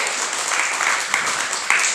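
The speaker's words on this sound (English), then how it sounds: "a big round of applause, eh?" Guests at a Burns Night celebration at the Ulster American Folk Park give a round of applause, a steady wash of clapping with a few louder claps standing out, heard on its own without speech.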